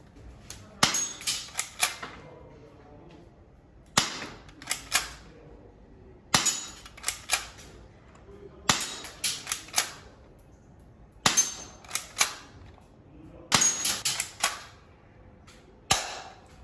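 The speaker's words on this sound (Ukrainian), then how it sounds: "все, лодером зарядили і стріляємо." Sharp snapping shots from a Cyma ZM18 metal toy Beretta M92 airsoft pistol fired in quick bursts of two or three, each group followed by light clinks and rattles, with pauses between bursts.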